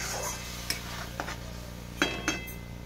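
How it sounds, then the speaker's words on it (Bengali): Ginger-garlic spice paste stir-fried in a pan with a steady sizzle, broken by a few sharp scrapes and clinks of the spoon against the metal. "মশলাটা আমি আদা রসুনটা এইভাবে একটু কষে নেবো।"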